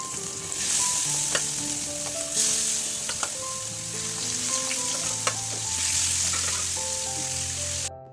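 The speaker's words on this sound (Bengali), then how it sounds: "এখন সামনের চুলায় মাছটা ভেজে নিব" Fish frying in oil on a home stove, a loud continuous sizzle close up, with faint background music tones running beneath.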